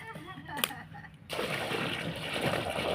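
Water pours and splashes into a rat's burrow outdoors, a sudden steady gush of sloshing and gurgling that runs loud and close after a brief quieter start with some voice.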